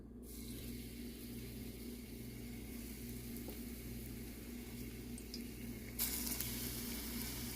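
Floured beef pieces searing in a hot pan for a homestyle beef stew, a steady low sizzle and hiss that runs throughout, with a slight brighter crackle toward the end.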